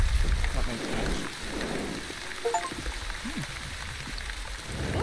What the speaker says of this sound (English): appears to be re-raining